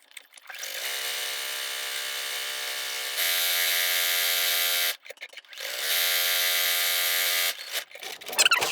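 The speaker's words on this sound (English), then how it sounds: "at the sewing machine, all I'm going to do is I'm just going to sew a seam just like I would when I'm quilting" A sewing machine runs a straight-stitch seam around the edge of a Dresden plate quilt block, a steady motor whir in two long runs split by a short pause, with a louder stretch in the middle of each.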